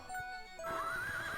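A pony from the video game Crystal's Pony Tale neighs, a single wavering synthesized whinny rising in the second half, clear and alone over quiet game background.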